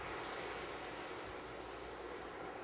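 Blueberries and water hit a hot pan and sizzle loudly as a syrup starts cooking, a steady, dense hiss that stays even throughout with no talking.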